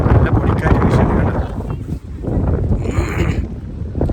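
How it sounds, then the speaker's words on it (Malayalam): Strong dusty wind gusting across open mountain country on the Pakistan border during a motorbike trip around India, roaring and buffeting the microphone loudly and steadily throughout. "നല്ല പൊടിക്കാറ്റ് വീശിയാണ്"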